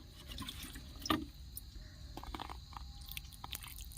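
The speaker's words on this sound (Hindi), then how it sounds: "धीरे धीरे पानी डालना है, ताकि पौधे हमारे इधर उधर नहीं हिले" Water trickles slowly into a flower pot freshly planted with chrysanthemums, a faint soft pouring with small splashes and a brief knock early on, quiet and close.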